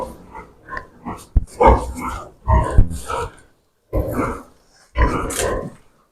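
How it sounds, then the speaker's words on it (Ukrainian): A large farm pig grunts and snorts close by in repeated rough, uneven bursts separated by brief pauses, with no talking over it. "Це Альбертіновна, це сама любима Андрюхина свиня."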